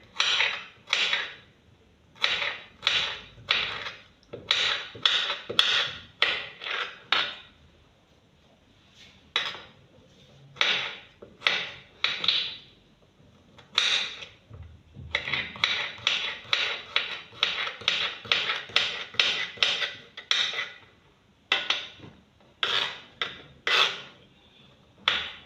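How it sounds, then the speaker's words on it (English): A knife dices a carrot on a cutting board with quick, close, crisp chops in rhythmic runs and short pauses between them, with no talking. "So I finished dicing the carrot."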